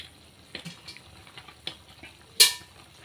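Food cooking in a pan is turned over with a utensil, a few soft scrapes and light clinks over a low sizzle, ending in one sharp metallic clatter.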